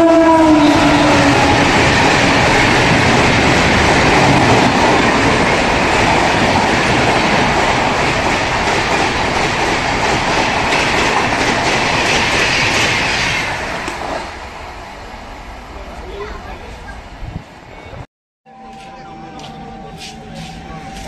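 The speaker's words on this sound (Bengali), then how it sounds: "হাওড়া ধানবাদ কোলফিল্ড এক্সপ্রেস আসছে দেখুন আলাদা স্পিডে।" The Howrah–Dhanbad Coalfield Express races past at speed, a loud, close roar of wheels and coaches with a horn blast, which drops away abruptly as the last carriage clears, leaving quieter background noise.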